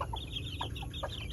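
A mother hen clucks softly and repeatedly beside her healthy chicks on a Filipino farm raising pure-breed White Kelso chickens, short close clucks over a steady low background hum.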